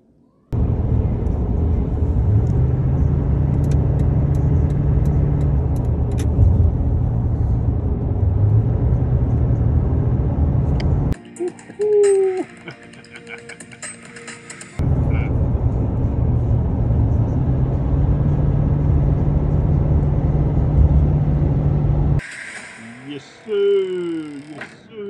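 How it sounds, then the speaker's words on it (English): A 2023 Cadillac Escalade V luxury SUV's engine roars at full throttle, a steady, loud, low drone that cuts out twice for brief bursts of other sound. Voices can be heard around it. "I'm pressing the gas all the way down."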